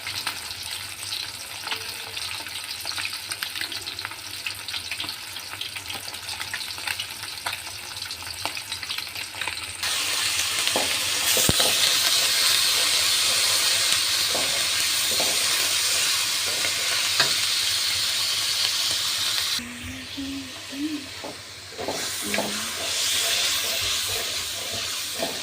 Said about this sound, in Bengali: হলুদের গুঁড়া, মরিচের গুঁড়া দিয়ে দিয়েছি। মশলাটা এখন ভালোভাবে কষিয়ে নেব।